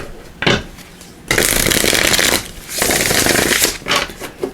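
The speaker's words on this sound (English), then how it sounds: "one more shuffle here, one more time." Tarot cards riffle and slide in several quick shuffling bursts, close and crisp, separated by brief quiet gaps.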